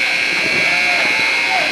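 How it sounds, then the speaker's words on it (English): At a high school boys basketball championship tournament game, a game-ending buzzer blares as one loud, sustained electronic tone over crowd noise in a gym. "As the buzzer sounds."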